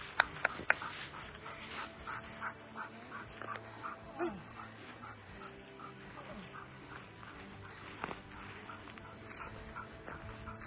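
A protection dog whimpers in short, faint, intermittent whines, heard close up against quiet background noise.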